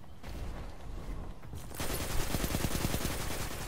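Rapid, steady gunfire in a first-person shooter match, fairly faint and continuous, growing denser and louder partway through, with no talk over it.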